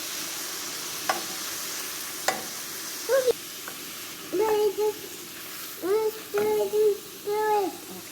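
Sautéed vegetables sizzling in a pot with a steady hiss while they are stirred, a couple of sharp utensil knocks, and a toddler's voice babbling in short bursts.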